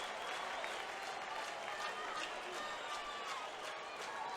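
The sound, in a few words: baseball crowd hand clapping and yelling at Wrigley Field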